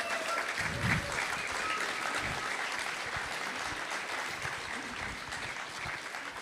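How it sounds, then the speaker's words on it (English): Sustained audience applause for a political commentator at an evening event in Hungary, a dense wash of clapping that holds steady throughout, loud and close with no talk over it. "Give a big applause to him,"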